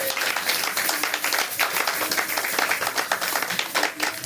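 A church congregation at a Sunday worship service claps and cheers loudly, a dense, sustained wash of applause that stays steady and close for the whole stretch.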